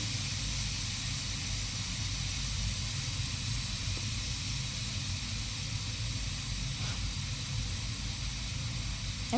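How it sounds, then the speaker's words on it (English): Steam hisses steadily from a Pampered Chef Quick Cooker pressure cooker during pressure release after cooking stew, a constant loud broadband rush that continues without pause. "as the steam comes out"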